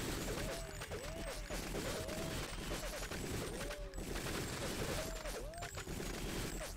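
Automatic turret gunfire in Deus Ex, a steady, continuous rattle of fire running the whole time at moderate level, with repeating rising-and-falling mechanical whines layered over it.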